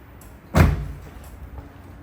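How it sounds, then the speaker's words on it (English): Door of a 2020 BMW 840d shutting with its soft-close mechanism, one short muffled thud up close followed by a faint mechanical settling, no voices. "All four doors are soft close."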